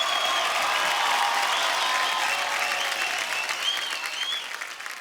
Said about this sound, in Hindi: जोरदार तालियां रहमान साहब के लिए।